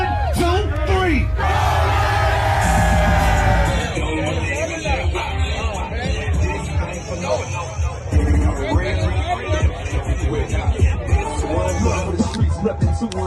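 Loud crowd at a 49ers fan gathering shouting together, a burst of hubbub and yelling for the first few seconds that gives way to dense music and chatter.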